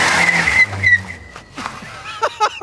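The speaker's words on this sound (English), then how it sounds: "Gabe is about to give us the inaugural burnout in the PT-GT." A Pontiac PT-GT does a burnout, its tires squealing in a loud, sustained screech that fades out, followed by a few short bursts of voices.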